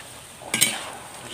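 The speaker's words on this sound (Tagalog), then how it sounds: "Haluin na natin." Pancit bihon rice noodles being stirred in a pan, a brief clatter of the utensil against the pan midway over a low background sizzle.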